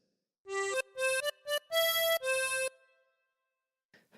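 A tremolo harmonica plays a phrase of Bingo Was His Name Oh: five or six distinct reedy notes, some short and quick, then two longer held ones, close and clear with no talk, followed by faint soft noises after it ends.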